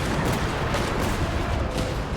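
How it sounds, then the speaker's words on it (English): Gunfire from the video game Genshin Impact rolls on as a dense, continuous barrage of shots and booms, loud and unbroken for the whole stretch. "Feuer frei, Leute."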